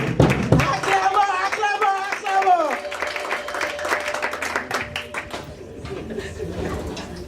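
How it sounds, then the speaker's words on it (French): A congregation claps at a prayer vigil, with scattered, irregular claps building over a few seconds beneath voices and a singing or speaking leader at the start. "Acclamons pour Jésus. Acclamons."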